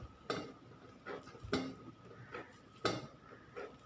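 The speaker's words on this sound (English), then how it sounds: "and knead the dough" Whole wheat dough with a little oil is kneaded by hand, producing faint, soft thumps and pressing sounds that repeat at a slow, steady rhythm in a quiet kitchen.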